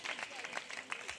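A church congregation claps in a brief, dense burst of applause, steady and moderately loud throughout.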